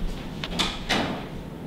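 A locked door is unlocked and opened, giving a few quick mechanical clicks and clunks of the latch and handle in close succession, fairly near, with no talking.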